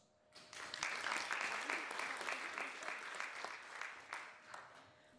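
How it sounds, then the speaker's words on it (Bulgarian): A theatre audience at a Bulgarian-language play applauds, a steady round of many hands clapping at a moderate distance that swells quickly and then slowly thins toward the end. "А сега да аплодираме и вас."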